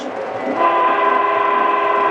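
The horn of a Lionel model train sounds a steady, sustained electronic blast. It begins about a quarter of the way in over the constant whirring rumble of the running train and holds loud to the end.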